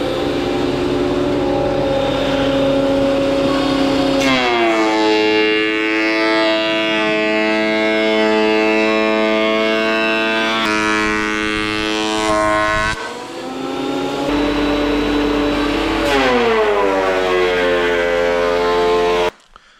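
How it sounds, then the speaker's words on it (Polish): A wood thickness planer runs alongside a dust extractor while roof battens are planed into window sills. It makes a loud, sustained mechanical whine whose pitch dips and recovers as boards feed through, then cuts off abruptly at the end. "Odpalamy odciąg. Grubościówka i lecimy."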